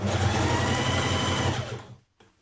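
A sewing machine runs at a steady fast pace, stitching a few millimetres from a seam on a Burda 6239 dress. The close, even mechanical hum and needle rattle stops abruptly near the end, leaving near silence.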